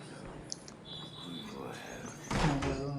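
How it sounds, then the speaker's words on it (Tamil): A door opens in the horror video game Outlast: a creaky sweep and a heavy thud near the end, under a low ambient game drone with faint scattered clicks. "கதவை ஓப்பன்"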